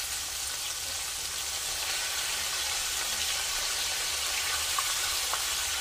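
Neck bones frying in a pan for Southern smothered neck bones sizzle steadily, a close, even hiss of hot oil that holds constant with no break and no talking.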